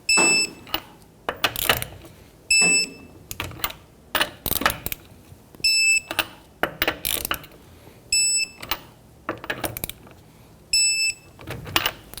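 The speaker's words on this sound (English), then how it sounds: "Let's go ahead and torque down our lug nuts to 75 foot-pounds." A torque wrench tightening lug nuts on a front wheel of a 2011-2015 Kia Sorento during a brake caliper job, sounding as repeated ratcheting bursts and sharp clicks in a regular rhythm, close and loud.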